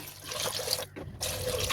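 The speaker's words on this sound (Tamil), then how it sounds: "அரிசி எல்லாமே வேகிறதுக்கு தேவையான அளவுக்கு தண்ணி வந்து சேர்த்துக்கலாம்" Water poured into a cooking pot of mutton rice porridge for Ramadan, with sautéed meat, peas and rice, a steady close splashing pour that briefly breaks off before resuming.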